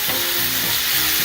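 Sausage sizzles in a pan with peppers and onions, a brief, close and steady frying hiss with faint stirring movement.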